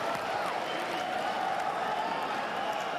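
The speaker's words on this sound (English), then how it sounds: "Listen to that crowd." A large audience roars and applauds in a packed hall at the PlayStation E3 2015 press conference, a dense, steady wall of cheering and clapping that holds at full strength throughout.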